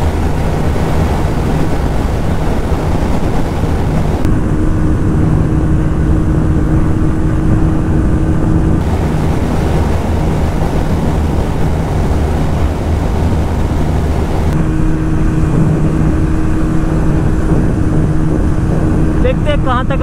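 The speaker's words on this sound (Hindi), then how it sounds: "अभी बराबर में चल रही है दोनों बाइक" Two TVS Apache 160 2V motorcycles, a new 2022 model and an older BS6 version, running side by side in a drag race, giving a loud, steady engine drone with wind rush throughout and a voice talking over it.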